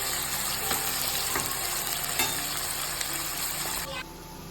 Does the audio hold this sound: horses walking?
no